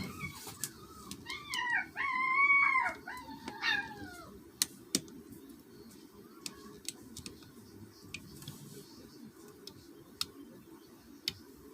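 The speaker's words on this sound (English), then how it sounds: "There goes the puppies again." Puppies let out a short burst of high, wavering howls and whines near the start, then fall quiet over a steady low background hum broken by sharp ticking clicks.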